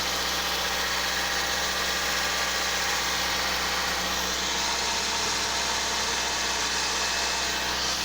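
A Toyota 3S-FE engine idling after a head gasket repair sealed with RTV silicone, a steady, even mechanical drone with a constant low hum and no speech.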